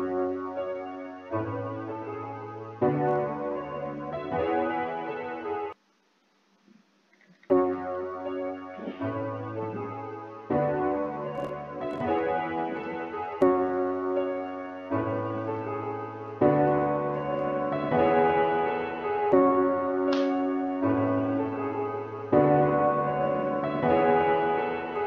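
A repeating music loop with a chorus effect gives a thick, shimmering tone, cycling steadily in bars after a brief pause near the start.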